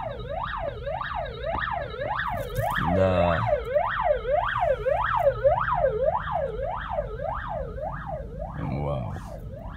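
An emergency vehicle's wailing siren sweeps up and down repeatedly and loudly while passing traffic on a city street, with a brief horn-like burst midway and a single short spoken word.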